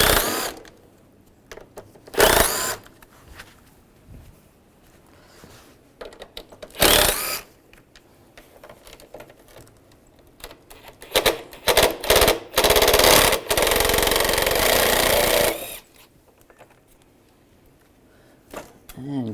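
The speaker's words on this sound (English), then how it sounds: "Using a T30 socket, we're going to take these screws out on all four corners." A power driver with a T30 socket spins out screws on a 1998-2010 Volkswagen Beetle radiator assembly, loud rattling bursts of varying length separated by pauses, the longest a sustained whir of several seconds, with talking in between.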